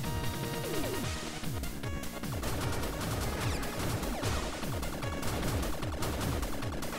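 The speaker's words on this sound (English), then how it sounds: "Heavy machine gun." Heavy machine gun firing in the retro-style video game Blaster Master Zero, rapid repeated chiptune-like shots with descending zaps over continuous game music, steady and dense throughout, with no talk.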